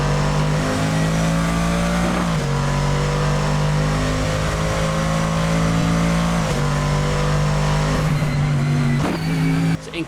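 Mercedes AMG GT3 Evo race car engine on a circuit, a loud close in-car roar that holds steady notes and drops sharply at each upshift, several times over ten seconds.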